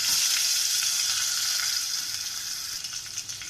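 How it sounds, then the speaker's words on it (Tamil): Curry leaves and garlic sauté in a pan for a spinach dal, a close, bright, steady sizzle that fades slightly toward the end, with no talking. "நான் இப்போ கொஞ்சம் கருவேப்பிலை சேர்த்துருக்கேன், வதக்கி விட்டுக்கலாம்"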